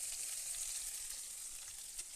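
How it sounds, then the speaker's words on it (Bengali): Egg and potatoes frying on a gas stove, a steady close hiss of oil sizzling throughout with faint crackles and no talk. "এই দেখো ডিম ভাজা, এই যে আলু ভাজি আমি গ্যাসে রান্না করছি।"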